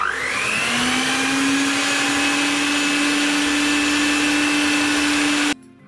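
A steady electric hand mixer with whisk attachments whirs loudly and continuously, beating muffin batter, then cuts off abruptly near the end.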